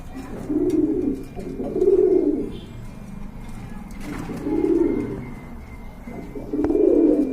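Pigeons, including blue mixed birds at a pigeon seller's, coo close by in four deep, rolling bouts separated by short pauses, loud and clear with a soft background hum.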